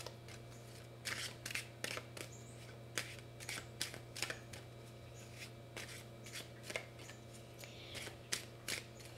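Tarot cards are shuffled and handled close up in a quiet room, soft repeated riffling and sliding snaps scattered irregularly over a steady low hum, with no talking.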